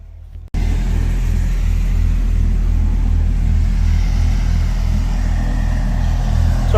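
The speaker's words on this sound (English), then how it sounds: "Sorry about the noise. They got a little construction going on" Construction machinery near a national monument in Florida makes a loud, steady low engine rumble that starts abruptly and drones on without a break.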